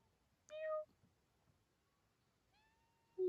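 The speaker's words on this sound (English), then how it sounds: "she's our little girl cat with the most sweet little cry" A pet female cat named Bella gives two short, sweet, soft meows separated by quiet pauses, with a fainter mewing sound in between, close by and alone.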